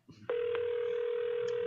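A telephone line tone picks up after a brief click of dialing, then holds as one steady, loud, continuous electronic hum while a call is placed.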